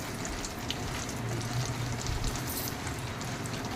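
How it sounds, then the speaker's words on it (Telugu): Dried red chilies frying in hot oil for a mango pickle, a steady soft sizzle with faint crackles and pops throughout, no voices. "ఆ మిరపకాయలు వేసేయాలి. అవి వేగాక బాగా వేయించాలి."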